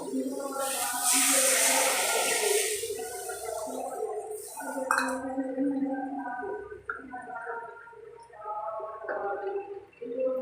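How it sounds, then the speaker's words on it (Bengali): Water from a bowl is poured into a pan of fish curry made with poppy seeds, raising a rushing, bubbling hiss in the first few seconds, followed by someone talking over the simmering pan. "তো আমি এখন বাটিতে রাখা জলটা দিয়ে দেব"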